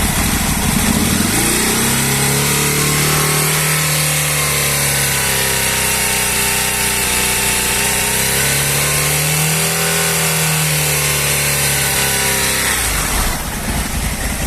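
An Aprilia RST 1000 Futura motorcycle engine held at about 4000 RPM during throttle body synchronisation, a loud, close, steady drone with slight pitch swells, cutting off near the end.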